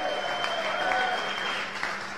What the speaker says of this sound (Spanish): Fuerte aplauso a Epi.